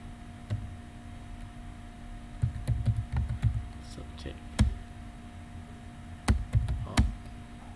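Keys clatter on a computer keyboard in short, irregular bursts of close, sharp clicks, with pauses between the runs of typing.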